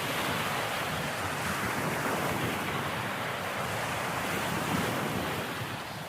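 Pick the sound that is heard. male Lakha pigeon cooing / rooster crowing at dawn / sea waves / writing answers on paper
sea waves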